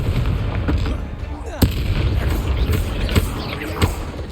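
In the Hogwarts Legacy video game, a Confringo fire spell goes off with a sharp blast and crackling bursts amid busy combat noise, repeated blasts ringing out over a dense, loud background.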